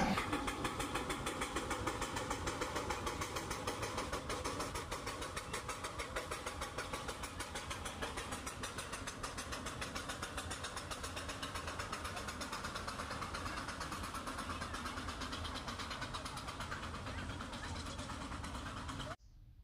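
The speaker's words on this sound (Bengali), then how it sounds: "স্টিম ইঞ্জিনটাও ছেড়ে দিল" Darjeeling toy train steam locomotive pulling away, a steady close rumble threaded with fast rhythmic chuffing that runs throughout, while a person talks over it.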